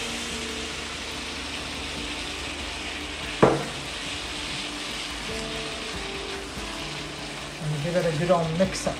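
Minced meat frying in a pan for chilli con carne, a low background sizzle broken by a sharp clatter as it goes in, then scraping stirring near the end, under a brief spoken remark.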